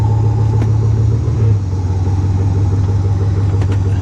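A car engine runs steadily with four-wheel drive engaged, a close, continuous low rumble with a slight shift in pitch partway through, no talking.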